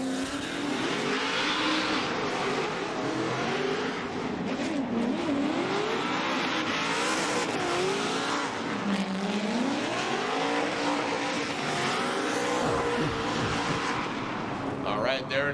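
A race car on a championship drift course roars through repeated rev swings and rising, falling engine tones, with tire squeal mixed in, loud and sustained throughout under a commentator's voice.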